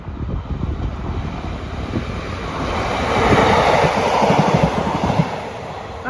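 A Class 156 diesel multiple unit passes through a rural station, a broad steady rumble and rush that swells toward the middle and holds, with wind buffeting the microphone throughout.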